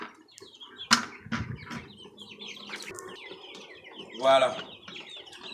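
Goliath chickens cluck and squawk inside a henhouse on a farm, with a few sharp calls and a louder burst near the end, mixed with close speech and some rustling.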